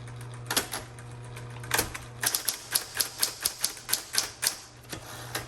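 Keys of a repainted 1960s Smith Corona Electra 110 electric typewriter strike in a quick, even run of about a dozen sharp clacks over a steady motor hum, with a couple of louder heavier thumps near the start.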